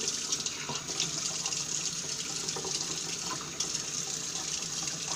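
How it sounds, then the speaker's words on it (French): Tap water runs steadily into a glass, a continuous close splashing stream lasting several seconds with no talking. "De mettre un tout petit peu d'eau."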